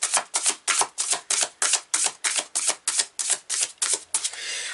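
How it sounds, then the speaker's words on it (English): Tarot cards are shuffled by hand in a rapid, even run of about a dozen crisp riffling bursts, close and fairly loud, with no talking. "let's just shuffle like this"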